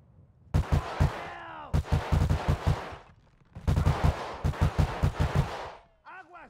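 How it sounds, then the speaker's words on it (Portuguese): Loud gunfire from GTA V during a gang war in a favela comes in several rapid automatic bursts separated by brief pauses, each burst a quick string of sharp cracks. "Essa arma minha, o tiro dela tá saindo com muita visada, mano."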